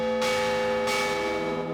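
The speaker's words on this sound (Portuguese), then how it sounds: "Os sinos da catedral ressoaram ao meio-dia." Cathedral church bells ring out at noon, a sustained, loud metallic peal with rich overtones and two distinct strikes that swell and linger, heard alone.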